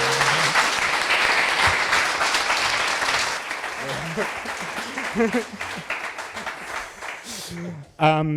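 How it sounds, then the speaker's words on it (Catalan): A live studio audience at a public show applauds loudly, the clapping fading out after a few seconds while a voice and scattered sounds carry on over the tail. "Un aplaudiment, per favor."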